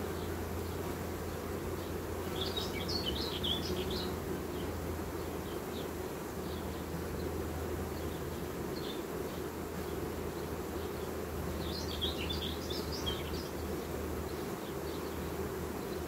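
Honeybees from a natural swarm buzzing steadily during a hive inspection, a dense continuous drone with occasional higher whining passes of bees flying close, with no talking.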